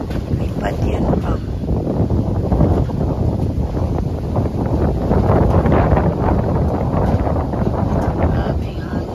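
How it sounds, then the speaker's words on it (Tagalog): Strong wind buffets and roars steadily against the microphone outdoors near water as rain begins, loud and unbroken throughout, with speech mixed into the rush. "Lakas talaga ng hangin guys."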